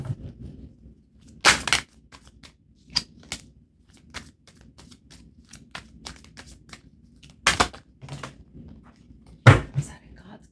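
Tarot cards falling and slapping onto a surface in several separate bursts, sharp shuffling flutters spaced apart with quieter gaps between them.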